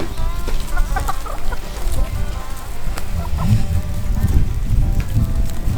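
Chickens clucking nearby, a busy stream of short clucks and squawks over steady outdoor noise.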